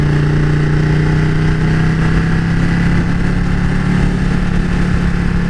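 A 2015 Ducati 1299S motorcycle engine drones loudly and continuously while riding, its steady tone climbing slowly in pitch as it pulls, with no voices.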